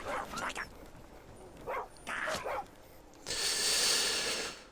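A dog in the Skyrim video game barks in a few short, moderately loud bursts spread over several seconds, followed by a stretch of steady hissing noise.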